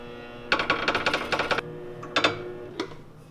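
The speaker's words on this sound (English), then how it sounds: "I'm gonna just roll a bead in it" A short welding bead is laid around a strengthening ring on a vehicle driveshaft. It makes a rapid, buzzing crackle for about a second, then a few brief, sharp bursts and a lone tick, all close up.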